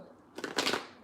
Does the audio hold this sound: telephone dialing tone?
no